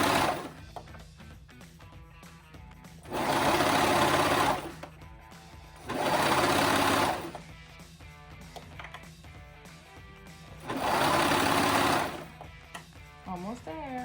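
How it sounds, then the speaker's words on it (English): A cover stitch sewing machine hums loudly in three bursts as it sews a legging seam, with quieter gaps where a person talks between runs. "this is how easy a cover stitch is"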